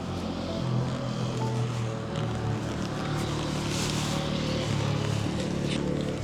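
A motorboat motors across Lake Bled in Slovenia, its engine a steady, loud low drone with rushing water and wind throughout.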